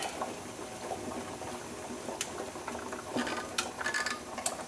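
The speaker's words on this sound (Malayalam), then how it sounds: "പുളിവെള്ളം ഒഴിച്ചിട്ട് നല്ലതുപോലെ ഒരു 3-4 മിനിറ്റ് തിളച്ച് വെന്തു" Taro stem curry simmers with tamarind water in a pot, giving soft, irregular bubbling pops and light crackles over a quiet, close background.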